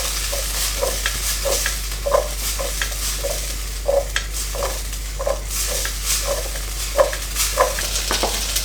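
Red onion and paprika fry in a pan with a soft steady sizzle, while a utensil scrapes and stirs in a regular rhythm of close, distinct strokes.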